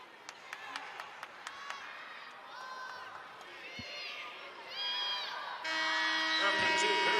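Crowd at a Big Ten college wrestling dual meet, Northwestern versus Minnesota, with sharp rhythmic claps and shouts early, then rising whoops and cheering that swell louder toward the end, under commentators talking.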